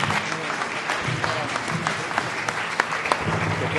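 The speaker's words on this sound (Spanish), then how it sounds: "Te has soltado tú el aplauso" Applause from a crowd at a presentation event at Casino Astorga, a dense steady clatter of clapping lasting a few seconds with voices mixed in underneath.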